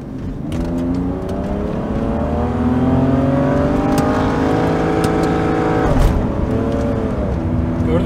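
A BMW E39 528i car engine revs up nearby, its pitch climbing steadily for several seconds before dropping back, then surging again.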